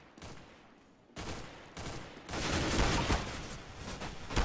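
Shotgun blasts ring out in a Counter-Strike: Global Offensive match during an Arms Race round, sharp bursts that come close together and grow denser and louder toward the end.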